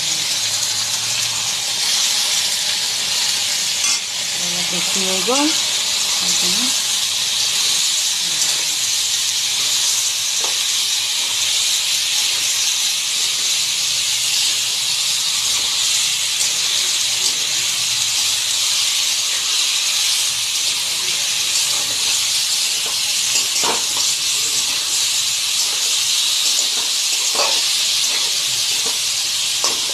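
Pork and pachala sizzle loudly and steadily in a hot wok, a dense continuous hiss with a few scraping clatters, while a voice speaks briefly.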